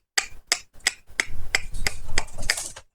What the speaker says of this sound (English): what you just heard were my dogs running towards me